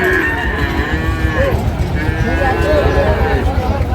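Sahiwal cattle moo in long, drawn-out low calls, two lows in a row, over a busy cattle market crowd in Madaripur, Bangladesh, with people talking close by.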